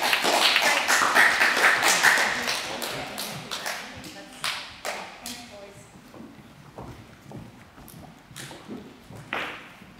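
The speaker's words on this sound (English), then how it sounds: "give them all another round of applause." Audience at a school presentation day for a support unit gives a round of applause, a dense burst of clapping that starts loud and gradually thins into scattered claps over about ten seconds.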